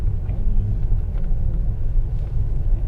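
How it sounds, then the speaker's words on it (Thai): Low, steady engine rumble from inside a Mercedes-Benz V 250 diesel van as it drives and turns into a side street, a continuous close cabin drone with no talking. "รถเลี้ยวเข้า ซอยนะครับเมื่อกี้นิดหนึ่งนะฮะ"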